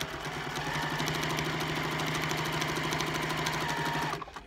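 A sewing machine runs steadily and close up, stitching a seam on a free-motion quilted English landscape cushion, its rapid needle rhythm continuous before stopping abruptly at the end.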